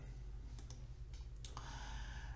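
Computer mouse clicking on radio buttons: a few faint, sharp clicks spaced apart over a steady low background hum, with no talking.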